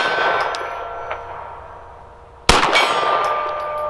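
A pistol shot strikes a steel gong target at a shooting range, giving one sharp metallic clang that rings on briefly, following a quieter earlier ring that fades.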